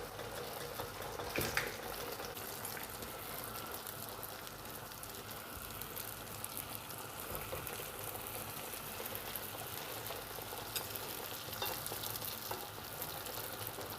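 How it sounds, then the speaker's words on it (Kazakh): Baursak dough frying in hot oil, a steady dense sizzle and crackle that runs evenly throughout at moderate level, with a few sharper pops standing out. "Енді бауырсағымызды майымызға саламыз"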